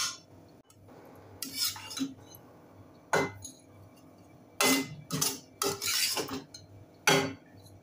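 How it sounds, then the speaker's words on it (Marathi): Roasted semolina being spooned from a pan into a bowl for rava besan ladoo, heard as several separate metallic scrapes and clinks with quiet gaps between them. "आता आपण हा एका बाउलमध्ये काढून घेऊया।"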